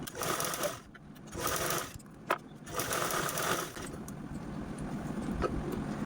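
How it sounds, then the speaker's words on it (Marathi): A sewing machine stitches a reused plastic shopping bag in close, rapid bursts. The whirring runs start and stop several times, then settle into a longer steady run, with no voice heard. "याच्यावरती मी पुन्हा डबल डबल टीप पण देऊन घेते"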